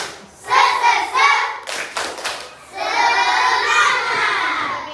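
A class of schoolchildren stand and do a rhythmic clap-and-chant cheer with their teacher before going home: bursts of quick claps alternate with loud, close group chanting.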